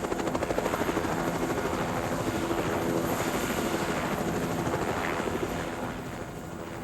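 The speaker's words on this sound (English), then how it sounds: "We also arranged to fly in a few odds and ends by chopper." A helicopter flies supplies in to a mountain base camp, its rotor beating in a fast steady thump close by, loud throughout and easing slightly at the end.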